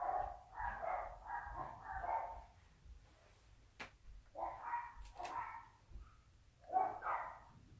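Dogs bark indoors in three bursts of repeated barks, moderately distant, with brief quiet gaps and faint footsteps or movement between them.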